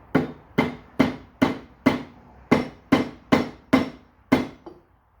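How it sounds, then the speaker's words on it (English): Old oil seal on a Jag-powered BMW E61 EV conversion being tapped into place with a socket and assembly lube, about ten sharp, evenly spaced metallic knocks ringing close and loud with no talking. "we should be able to precision refit the old oil seal in"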